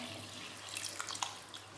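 Tap water runs into rice being cooked for a coconut milk tomato rice dish, a steady, fairly faint stream with a few small splashes and drips.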